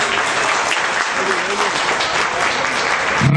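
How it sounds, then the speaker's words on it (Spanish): Audience at a lawyers' award ceremony breaks into loud, sustained applause, a thick wash of clapping at close range that runs without a break for about three seconds. "denle otro aplauso."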